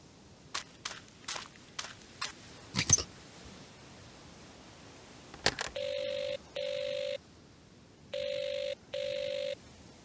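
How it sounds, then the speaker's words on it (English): A telephone is dialed with a series of sharp clicks and taps, then rings in four evenly spaced electronic bursts, fairly faint against a quiet room. "Phone isn't much good if no one will answer it."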